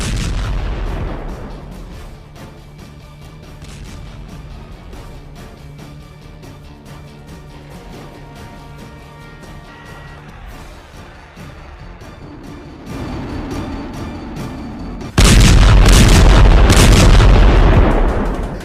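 Artillery fire and explosions from attacks in Ukraine boom at loud, close range, building from scattered low rumbling blasts to a dense, roaring barrage that fills the last few seconds.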